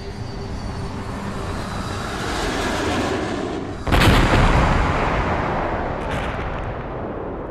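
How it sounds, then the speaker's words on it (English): Staged sound effect of planes striking the Twin Towers in downtown Manhattan: a rising roar of jet engine noise builds, then a sudden loud explosive impact near four seconds, followed by a long rumbling decay and a smaller second burst. "two planes hit the Twin Towers"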